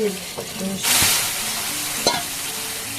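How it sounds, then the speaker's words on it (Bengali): Spice masala for a rohu fish curry frying in oil, a steady close sizzle with a few scraping stirs and one louder burst of hiss partway through, no voices. "দেখুন কি সুন্দরভাবে মশলাটা ভাজা হয়ে গেছে এর থেকে আর বেশি ভাজার দরকার নেই"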